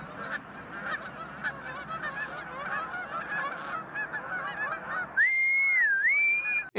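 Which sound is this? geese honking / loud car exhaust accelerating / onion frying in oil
geese honking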